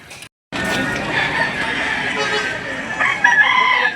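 A Golden Boy sweater gamefowl rooster crows loudly and close by at a livestock auction market in Lipa City, Batangas, one long sustained call following a brief silence.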